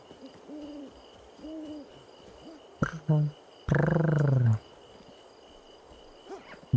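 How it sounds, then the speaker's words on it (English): An owl hoots a few times in a jungle, soft rounded calls in the distance, then a louder, drawn-out hoot; brief sharp knocks and rustles sit between them. "That was an owl sound, wasn't it?"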